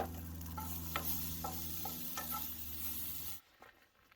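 Carrots, onion and garlic sauté for fried rice in a pan, sizzling steadily with scraping stirs and utensil taps, until the sizzle drops away abruptly near the end.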